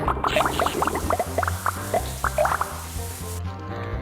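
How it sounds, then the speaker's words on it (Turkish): Dripping from a leaky bathroom tap, a quick string of small plops and drips over a low steady hum, fairly close, ending in quiet. "Musluk damlatıyor."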